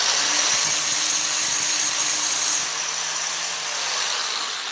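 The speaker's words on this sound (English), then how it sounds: "So when I'm using the grinder here, I'm keeping this grinder parallel." A grinder works a 304 stainless steel part of a 50CFM single-phase compressor, giving a steady, close, bright whine with a slight dip in intensity partway through.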